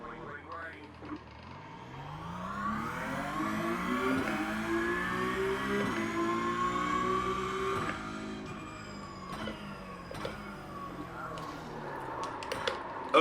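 Several Porsche Cup race car engines rev and accelerate together at a race start in iRacing at Bathurst's Mount Panorama, a loud sustained roar with rising pitch sweeps, and a voice talks over it.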